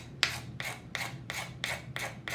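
Decoupage napkin being rubbed down onto a tile by hand: six steady, evenly spaced rasping strokes, close and fairly quiet, with no talking.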